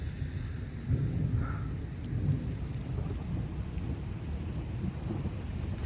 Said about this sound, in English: that was some of the most insane thunder that I've maybe heard